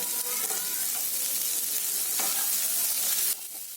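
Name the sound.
carrots added to a pan and frying for aamti curry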